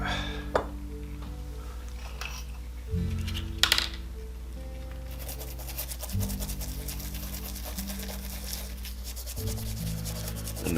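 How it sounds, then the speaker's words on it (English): Scrubbing at leftover paint on a 1963 Plymouth car part gives a repeated rubbing, scraping sound close up, heard over a steady multi-tone hum from a machine running in the background. "to see if I could scrub off that extra paint on there"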